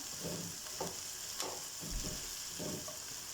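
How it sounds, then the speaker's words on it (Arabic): Onions fry in a pot with kabsa spices and rice for a lamb tashreeb, giving a soft, steady sizzle with a few brief stirring scrapes, fairly quiet throughout. "بعد ما يذبل البصل اضيف البهارات والتمن، وايضا احمسه شوية"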